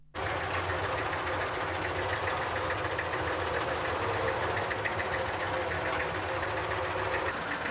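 A tractor engine runs close by with a loud, steady rattling chug that barely changes pitch or level, with no talk over it.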